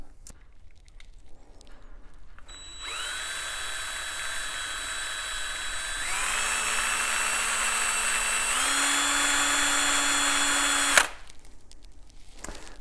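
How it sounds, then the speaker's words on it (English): A power drill enlarging a hole in metal whines steadily, its pitch stepping up twice as it bites, then cuts off abruptly with a clunk; quiet room noise before and after. "So I'm going to take this drill bit and we'll try to open that one up a little bit."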